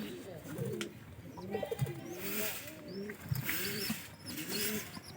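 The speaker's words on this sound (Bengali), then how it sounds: "এখানকার পাইরি খাবার খাওয়াইতেছে" Pigeons close by making low, repeated throaty coos while feeding their chicks, mixed with faint chirps and light rustling, and no talking.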